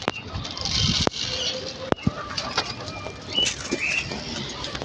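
Pigeons being fed grain coo softly at close range amid scattered wing flaps and pecking taps, with faint household background noise and a nearby voice now and then.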